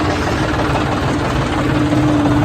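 Loud, steady rumble of a tractor engine running close by, a continuous low throbbing drone throughout.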